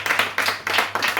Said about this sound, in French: Vous pouvez l'applaudir encore.